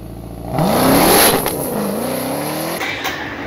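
A 1025-horsepower petrol car engine roars up through the revs in one loud, rising surge, then eases back to a lower steady growl.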